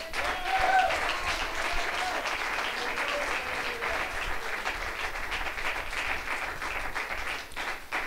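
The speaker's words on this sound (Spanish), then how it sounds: "un aplauso al Señor" A church congregation at an Apostolic assembly service gives sustained applause, a loud, even roar of many hands clapping throughout, with a brief voice rising over it near the start.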